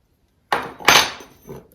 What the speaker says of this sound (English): I'm just going to quickly tighten this up with 3/8 spanner